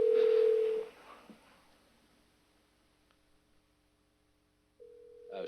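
A remote participant dials into a meeting by phone: a loud steady tone at the start cuts off into faint line hiss, and another tone rises near the end.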